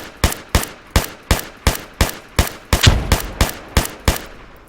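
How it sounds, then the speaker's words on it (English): Evenly spaced gunshots crack about twice a second in ArmA 3, with one fuller, heavier grenade explosion partway through standing out from the steady rhythm of fire. "let me put a grenade here and fire at the same time"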